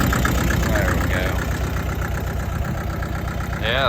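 Cheap old tractor engine idling, a steady loud rumbling chug that runs throughout with faint background noise.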